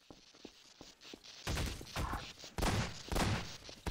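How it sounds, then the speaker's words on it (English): Gunfire in Garry's Mod sounds as a fast volley of loud shots, faint at first and then close and heavy in repeated bursts, with little talk. "Oh, he's shooting at you."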